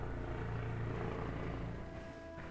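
An airplane or helicopter passes overhead, a broad, steady low rumble filling the background that gradually thins and fades toward the end, with no talking.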